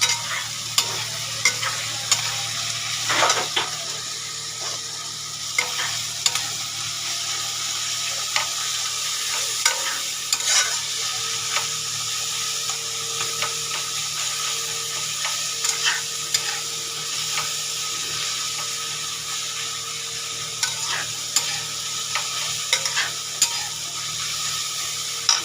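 Masala being sautéed and stirred in a pan before marinated meat is added, a steady close sizzle and fry with frequent scraping stirs throughout, no talking.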